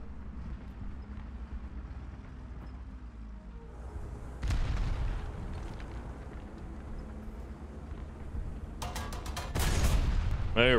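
A tank cannon fires in War Thunder with a sudden heavy boom midway through, then a second loud crack and a rumbling burst near the end. A low engine drone and battle noise run underneath.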